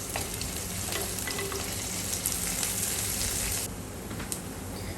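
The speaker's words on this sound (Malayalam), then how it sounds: "ഇതെല്ലാം കൂടെ നല്ലപോലെ ഒന്ന് വഴറ്റിയെടുക്കാം" Curry leaves sautéing in a hot pan of oil for lemon pickle give a steady, close sizzle with faint stirring clicks. The frying dips a little in loudness near the end.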